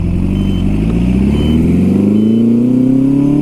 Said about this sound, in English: My bike likes to be revved out when it's cold.